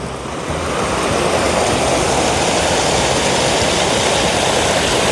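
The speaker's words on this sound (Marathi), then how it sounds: "धबधबो" A waterfall in misty Konkan countryside, a loud, steady broadband roar of rushing water that fills the scene from start to finish, with no voices.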